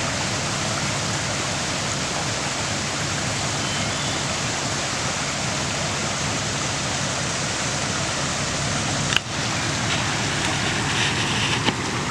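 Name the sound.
creek flowing strongly after heavy rain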